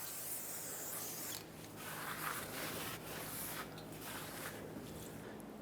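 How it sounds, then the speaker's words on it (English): A rag or cleaner is scrubbed across the outer braking surface of a brake rotor from a 2000-2005 Ford Excursion, giving a steady close hiss and rubbing broken by brief pauses, with no talking. "we'll clean the outer braking surface as well"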